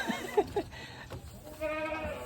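A large goat on a farm in Batangas gives a few short, close bleats, then a longer wavering cry, with faint background noise around it.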